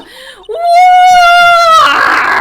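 A high, sustained cartoonish scream from a character in the Ace Attorney courtroom game, rising sharply then holding one loud, shrill wavering tone for over a second before breaking into a noisy rasp.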